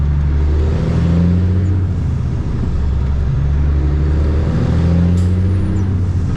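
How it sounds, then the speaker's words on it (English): A truck with a 15-speed transmission accelerates through its gears, the engine droning loud and close with rising pitch sweeps between shifts and no voices. "Gosh, I love this truck. She shifts really nice."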